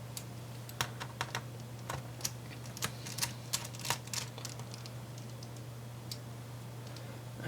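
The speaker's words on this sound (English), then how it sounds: "our next job is just to undo the other 2 screws either side" Sharp, irregular clicks and ticks from a screwdriver undoing the bottom cover screws on a Dell Inspiron 15-3510 laptop, close and fairly quiet over a steady low hum, with longer gaps toward the end.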